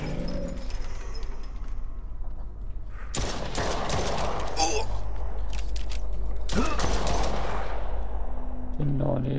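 Gunfire in the horror survival shooter Chasmal Fear comes in two dense bursts of rapid shots among quiet, murky game ambience, with clicking mechanical sounds between them; a player talks intermittently.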